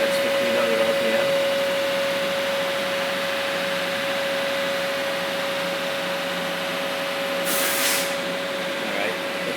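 Okuma Crown 762-SB CNC turning center with its spindle running at about 1,000 RPM, giving a steady, moderately quiet machine hum with a constant whine and a brief hiss of air or coolant near the end.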